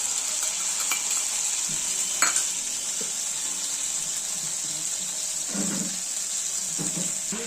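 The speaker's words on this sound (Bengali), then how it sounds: "চারমগজ কাজু আর পোস্তর পেস্টটা দিয়ে ভালো করে কষিয়ে নেব" A paste of cashew, poppy seed and melon seed frying in oil makes a steady, bright sizzling hiss, broken by occasional scrapes and soft knocks from stirring.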